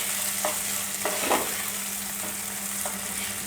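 Butter melting with rice as it toasts in a pot for Turkish orzo rice pilaf, a steady soft sizzle with faint scraping stirs, close and constant with no talking.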